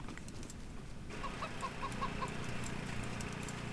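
A trapped cyborg chicken in Wasteland 3 gives a short run of quick, soft clucks over a low droning game ambience, faint and slightly distant, with no talking.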